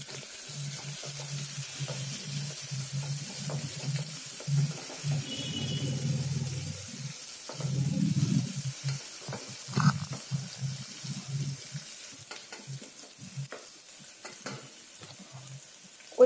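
Onions sizzle and fry in a pan for a spicy mutton curry, a steady low crackle with spoon stirring scraping through it at intervals, close and moderately loud, with no talking.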